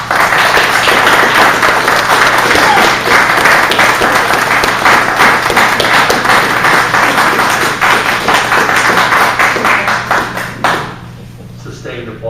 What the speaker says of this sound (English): Sustained applause.